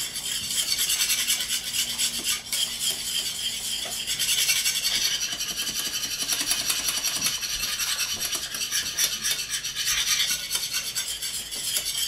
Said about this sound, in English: get it in there, and then whisk the bejesus out of it.